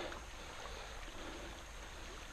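Water flows steadily in a small creek, a soft continuous babble heard quietly and without talk.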